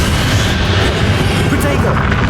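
A Confringo blasting-spell explosion during a battle in the game Hogwarts Legacy, a loud, dense roaring burst that fills the whole stretch with rumbling noise, with voices mixed in.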